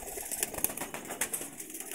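Pigeons in a loft, with soft cooing and bursts of wing flapping close by, alone with no talk.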